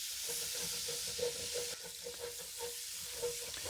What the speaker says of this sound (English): I'm just going to continue to stir those onions, scraping the bottom of that hot spot